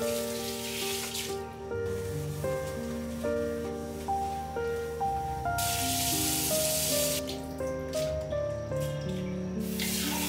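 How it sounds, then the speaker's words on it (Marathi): Glass and ceramic tea dishes are washed by hand at a kitchen sink, with running tap water splashing steadily over the vessels and soft music playing in the background. "आता मी लगेचच चहाची भांडी घासून घेतेय."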